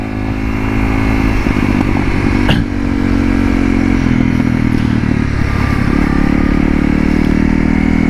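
Dual sport motorcycle engine riding off-road, a loud close-up rumble that surges and eases with throttle changes, with clatter and scraping over rough ground throughout.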